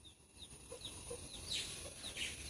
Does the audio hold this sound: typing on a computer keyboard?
no